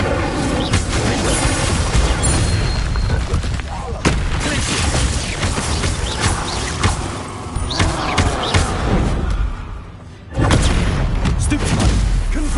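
Confringo spell explosions in a Hogwarts video game, a continuous barrage of loud booming blasts and crashes, close and dense, with a brief lull near the end before the roar resumes, and a voice speaking over it.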